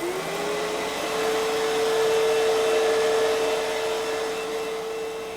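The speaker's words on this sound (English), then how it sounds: "While the Phantom Fury vacuum is running" A 1998 Fantom Fury upright vacuum cleaner runs steadily at close range, giving a loud broadband roar with a steady whine that rises slightly at the start and then holds, with no voices.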